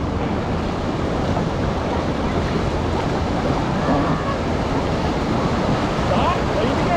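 Raft paddling through whitewater rapids on the upper Pigeon River, a steady loud roar of rushing water and wind filling the whole stretch, with faint voices mixed under the churn.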